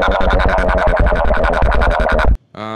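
A Logic Pro X distorted rhythm plugin effect on vocals: a harsh, buzzy pulsing sound chopped into rapid even beats, loud and close, cutting off abruptly before a brief clean tone.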